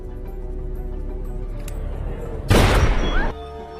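A burst of gunfire from the 2006 film The Mariner cracks out suddenly and loudly for under a second after a low, murmuring backdrop, then drops away.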